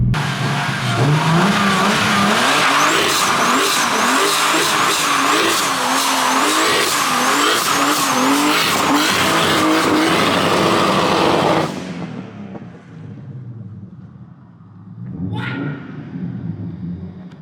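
A car with a freshly built engine accelerates hard, loud and close, its revs climbing and dropping through several gear changes before cutting off abruptly; after a quieter stretch a brief renewed burst of engine noise rises.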